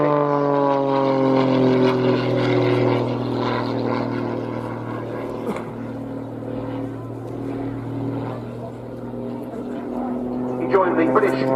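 A heavily modified Pitts aerobatic biplane drones steadily overhead at an air display, its strong engine tone holding a continuous harmonic hum while a commentator talks over it throughout.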